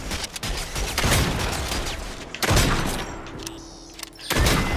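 Bursts of video-game gunfire aimed at a turret in Fortnite, several rapid volleys broken by short pauses, loud and close with no talking.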